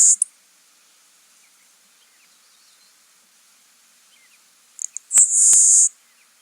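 LeConte's sparrow in marshland giving a short, harsh, insect-like ticking song, two brief high bursts separated by quiet, faint and distant.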